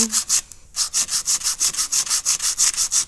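Loose sandpaper wet-sands metal after an acid bath, giving about a dozen quick, rhythmic back-and-forth rasping strokes, close and loud, following a brief pause near the start.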